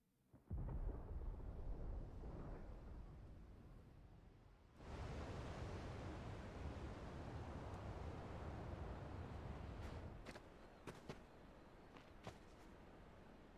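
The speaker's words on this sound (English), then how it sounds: "Sounds like thunder." Thunder in Final Fantasy 16: a rumbling roll that builds, then a long heavy wash of storm noise with a few sharp crackles near the end, loud and broad.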